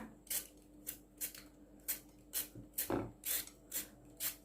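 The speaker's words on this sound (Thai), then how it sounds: "แล้วหลังจากนั้นให้เรา ปอกเปลือกเข้าออกนะคะ" Peeling skin from a cleaned root with a peeler in strokes back and forth, giving about ten short, crisp scraping rasps in a steady rhythm, close and fairly quiet with no talking.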